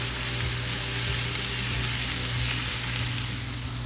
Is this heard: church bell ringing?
no